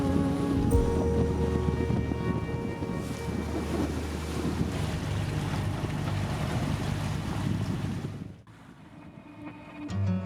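A boat crosses the strait near Poros in Greece, its steady engine drone mixed with water rushing past the hull and wind buffeting the microphone, loud and continuous before dipping briefly near the end.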